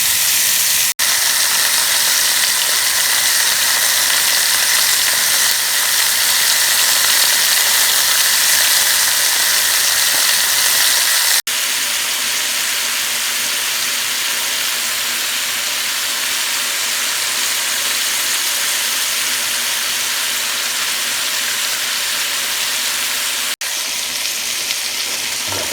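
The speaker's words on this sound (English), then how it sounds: "We're going to let that fry on each side for about a good" Oxtail pieces for a Jamaican oxtail dish sizzle steadily in a hot pan, a dense, continuous frying hiss that holds loud and close throughout with no talking.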